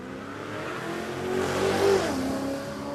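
At a no prep drag race at Warwick Dragway, Australia, an HQ Ute's engine revs hard, the roar swelling toward a peak and then easing slightly, loud and fairly close against a broad noisy backdrop.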